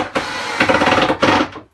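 Screws driven into wood during a narrowboat interior fit-out, heard close and loud as two short whirring bursts of a power driver separated by a brief pause.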